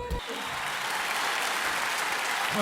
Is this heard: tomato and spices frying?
no